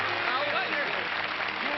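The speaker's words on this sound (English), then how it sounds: "You wonder where that applause is coming from?" Studio audience applauding throughout at a steady, fairly loud level on a 1950s live television tribute show honoring Olympic swimming champion Duke Kahanamoku in Honolulu.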